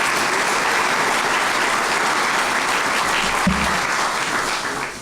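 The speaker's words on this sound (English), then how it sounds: "Give them a round of applause." Sustained audience applause at a university athletics press conference introducing a new athletics director, steady and full for several seconds before tapering slightly at the end.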